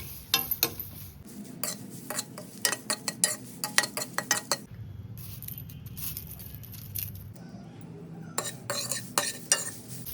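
Curry leaves dry-roasting in a pan for rasam powder, stirred with a metal spoon: repeated quick scraping and clinking strokes in uneven bursts, with quieter stretches of faint crackle between them.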